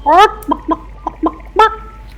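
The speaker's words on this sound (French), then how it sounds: "des poules à l'intérieur qui vous regardent" Hens inside a small henhouse give a series of short, nasal honking clucks, one longer call opening and closing the run, close by and fairly loud.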